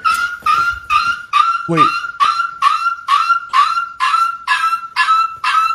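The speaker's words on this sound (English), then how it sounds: "Bro, that's a seagull." A seagull gives a rapid run of about a dozen evenly spaced, loud, close nasal calls in a steady rhythm, with one brief rising note partway through.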